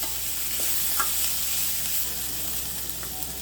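Carrot, beans and capsicum stirred and sautéed in a pan for vermicelli kichadi, a steady close sizzle with faint scraping stirs, no talk.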